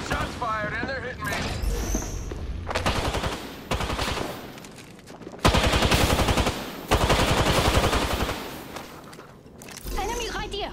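Apex Legends gunfire hammers away in long, loud automatic bursts close by, broken by brief pauses, with voices speaking during parts of it.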